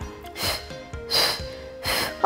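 Sharp, forceful exhales during an abdominal breathing exercise come in a regular rhythm, about four breathy bursts close to the mic with no talking.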